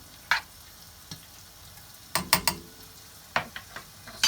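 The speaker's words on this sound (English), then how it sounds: "Just give it a stir." Butter being stirred through curried king prawns in a hot pan, giving a few scattered scrapes and clicks of the utensil against the pan over a quiet sizzle, with a cluster of stirring strokes in the middle.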